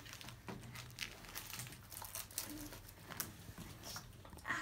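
Plastic wrapping on a boxed toy house crinkles and rustles steadily up close as the package is opened, with scattered small taps and handling noises throughout.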